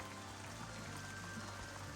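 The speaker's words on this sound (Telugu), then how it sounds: "ఇంకా వాన పడుతుంది" Rain falls steadily across a rose garden in cold weather at Kodaikanal, a continuous broadband hiss of drops on leaves and surfaces, even and moderately close with no talk.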